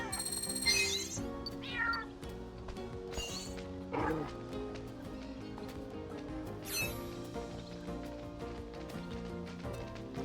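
Meowth's cry in New Pokémon Snap, several short rising meows over layered game music and ambient effects, fairly faint and spaced across the scene.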